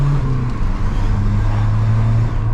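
Renault Megane 2 RS accelerating hard on a circuit, a loud, steady engine drone with strong low harmonics that holds throughout without any voices.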